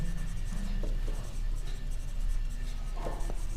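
Pen writing in a book while working an accounting problem on company absorption, a steady scratchy scribbling that runs continuously for a few seconds at close range, with faint room noise behind.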